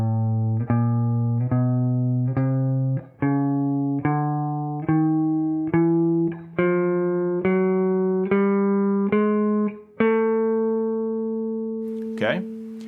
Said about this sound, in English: most basic scale, which is called a chromatic scale